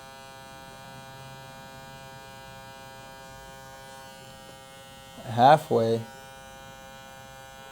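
An electric hair clipper with a half guard open hums steadily at a constant buzz, then briefly bursts louder as it cuts hair, while someone speaks a word over it.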